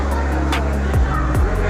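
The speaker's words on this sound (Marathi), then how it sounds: "मित्रांनो, आता इथून ट्रॅफिक जाम." Congested road traffic near the Shegaon temple, with a steady engine rumble and vehicles grinding along slowly close by, a couple of passing swells, and people talking over it.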